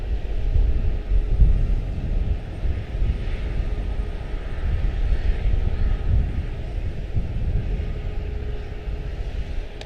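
An airliner climbs out on departure from Charlotte-Douglas International into a stiff headwind, its jet engines a loud, sustained low rumble and roar that holds steady throughout without talk.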